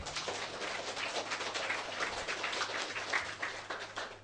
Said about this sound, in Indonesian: Tepuk tangan dong buat dia.